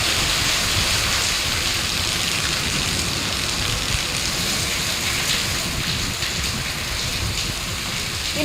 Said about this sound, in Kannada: ಮೈಸೂರಿನಲ್ಲಿ ಗುಡುಗು ಮಿಂಚು ಸಹಿತ ಭಾರೀ ಮಳೆಯಾಗಿದೆ